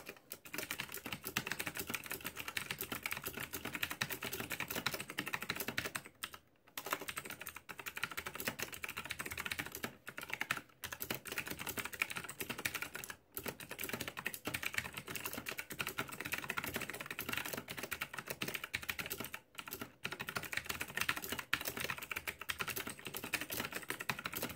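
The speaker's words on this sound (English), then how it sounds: "let's get a little bit of sampling on the typing on this board" Steady, rapid clacking of clicky mechanical keyboard keys, continuous typing with a few brief pauses, close and fairly crisp, no voices.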